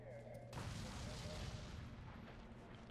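A sudden loud explosion in the Resident Evil 3 video game, with a sharp broadband onset followed by a sustained rumbling roar for a couple of seconds.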